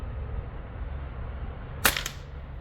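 A single crisp crack from a Crosman PCP air rifle firing a 14.3 grain Crosman Premier Ultra Magnum pellet, with a faint second tick just after, over quiet outdoor background hum and no talk.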